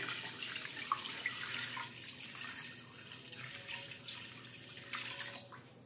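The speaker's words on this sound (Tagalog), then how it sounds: "Maglalagay po tayo ng tubig." Water pours steadily into a pressure cooker holding beef ribs, a continuous splashing rush that lasts several seconds with no talking.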